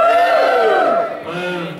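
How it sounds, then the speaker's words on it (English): A convention panel audience at Kitacon 2012 gives a loud, short burst of cheering and whooping that swells and then fades within about two seconds, with no talk over it. "Give me a cheer if you're sleep deprived."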